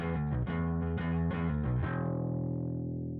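Bass guitar played through a DCX Bass tone shaper and drive pedal, a thick, distorted run of sustained notes that change every half second or so, then one held note fading at the end.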